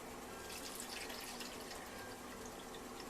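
Cold water is poured from a tap into flour for dumplings, a faint steady trickle and splash heard alone at close range.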